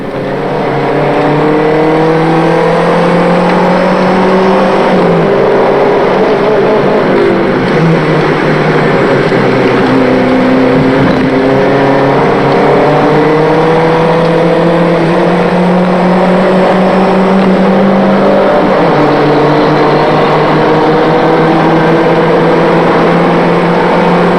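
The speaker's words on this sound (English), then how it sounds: "Tony Dron roars ahead only to lose control and spin off, and then go back across the track amongst the cars" Saab Turbo race cars roar around a circuit in a BARC Mobil Challenge race, engines loud and continuous with shifting revs and gear changes as cars pass close by, no talk over the noise.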